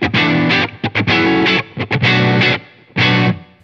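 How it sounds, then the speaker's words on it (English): A Schecter Nick Johnston electric guitar played through a JHS Morning Glory overdrive pedal on the blue channel, first position: loud, close, overdriven strummed chords and short stabs with brief gaps between them, alone without talk. "Right, let's move on to JHS Morning Glory. Blue channel, first position."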